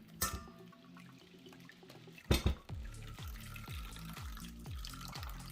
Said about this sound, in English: So I'm just going to pour it straight into the strainer.